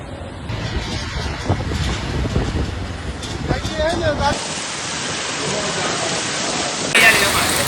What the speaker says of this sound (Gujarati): રાજકોટમાં ભારે પવન સાથે વરસાદ અને કરા પણ પડ્યા